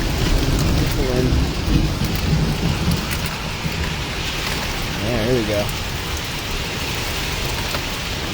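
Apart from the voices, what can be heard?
rain and thunder in a storm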